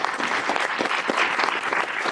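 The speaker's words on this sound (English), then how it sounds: "I think you deserve a round of applause for what you've done." Audience applause at a book launch celebrating Plastic Free July, a dense, steady burst of clapping from a crowd filling the short stretch.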